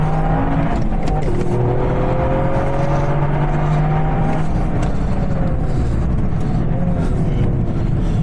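A 2021 Toyota GR Yaris accelerating hard on a grippy track with the steering still turned, its engine a loud, continuous drone that rises in pitch, close and dominant throughout.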